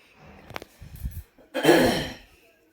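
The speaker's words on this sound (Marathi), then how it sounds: "अशा पद्धतीने ठसका येतोय मध्ये मध्ये" A person with a cold coughs nearby: a couple of short throat sounds, then one harsh, louder cough that trails off.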